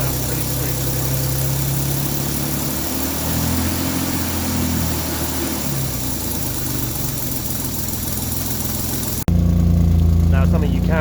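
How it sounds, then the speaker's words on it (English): A warmed-up Austin Healey 3000 idling with an exhaust blow underneath, a steady close rumble with a slight uneven puffing edge, which shifts to a deeper, louder drone near the end. "something you can hear is a bit of a blow underneath from the exhaust"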